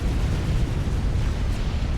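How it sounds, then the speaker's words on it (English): A big in-game explosion in a Supreme Commander match: a dense, roaring blast of broadband noise that holds steady for about two seconds without any commentary over it. "Oh, explosion to the east."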